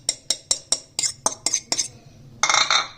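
Spoon clinking steadily against a metal bowl while garam masala, black pepper, dried coriander and salt are worked into a fish kabab mixture, about ten quick taps in a row, then a denser scraping burst near the end.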